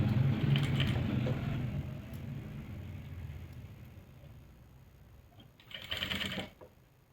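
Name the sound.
sewing machine stitching pleats on a salwar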